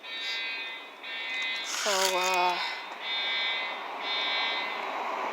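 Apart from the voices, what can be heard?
fire alarm going off in a building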